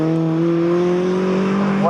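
MG Cup race car at Snetterton circuit, its engine droning steadily with a rising harmonic whine as it passes close by, over a continuous commentary voice.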